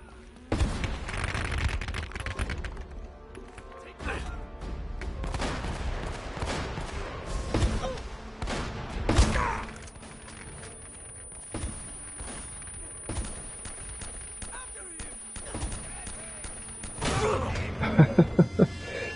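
Gunfire and mechanical clatter in the Uncharted video game, with dense bursts of shots and impacts throughout, heavier around the middle and ending in a few sharp rapid shots.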